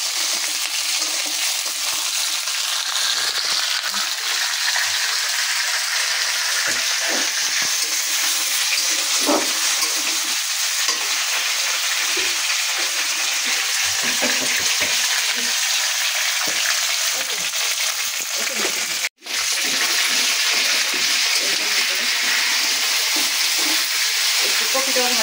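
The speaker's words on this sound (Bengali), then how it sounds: "একটু কপিটা ভাজা ভাজা হোক।" Cauliflower fries in a pan for a fish and vegetable curry, a loud, continuous sizzle with scraping stirs throughout, cut by one brief dropout near the end.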